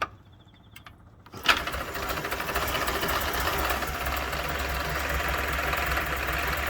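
A prewar Austin A7 car engine is hand-started after a quiet pause, catching and settling into a steady, close, loud idle with a busy mechanical clatter throughout, no talk over it.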